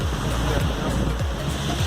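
Big ocean waves break continuously near the shore, a loud, steady wash of surf with rolling crashes and rumbling water throughout.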